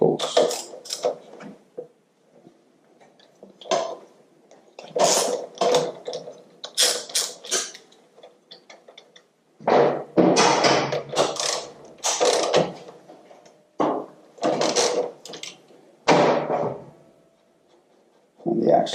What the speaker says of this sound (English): just loosen off the tension bolts and the axle pinch bolts